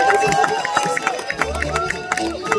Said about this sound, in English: this is when you cheer on your lumberjacks